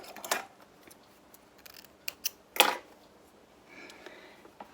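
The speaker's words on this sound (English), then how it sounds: "And trim that off." Scissors snip off the thread end after hand smocking stitches are secured, giving a few crisp, close clicks spaced apart in an otherwise quiet room.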